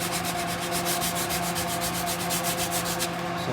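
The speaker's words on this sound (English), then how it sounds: "Sand off the glue." Glue being sanded off a carved wooden guitar neck, a rapid back-and-forth rasping of abrasive on wood in steady strokes, close and alone, stopping just before the end.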